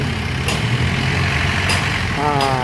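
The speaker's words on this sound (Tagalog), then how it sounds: "C240 ang makina yan" A diesel Isuzu C240 engine idles with a steady low rumble, running continuously close by with a few brief sharper noises on top.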